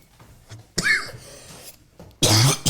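Two sharp, close coughs from a man, one near the start and a louder, harsher one at the end, separated by a quiet stretch.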